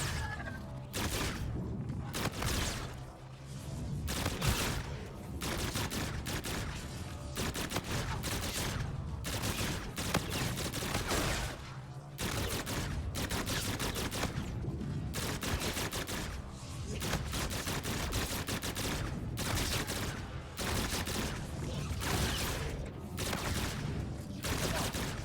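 Sustained assault rifle gunfire from a Call of Duty zombies-style match, loud rapid bursts firing almost continuously with brief gaps, dense and close throughout.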